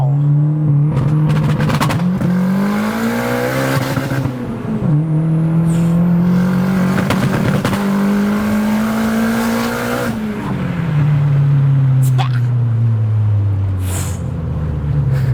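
A loud turbocharged Volvo S60R engine revs hard through rising gears, pitch climbing then dropping at each shift, with spinning tire noise and a roaring, sustained acceleration up close.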